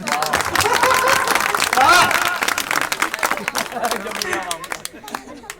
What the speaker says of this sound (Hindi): अब इतनी तालियां चाहूंगा जो अब तक न बजी हूं।